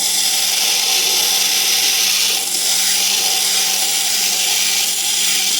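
A rotary carving tool grinds fire agate chalcedony at gentle pressure and low speed, giving a steady, loud, unbroken whine and hiss of stone being worn away, with no talking.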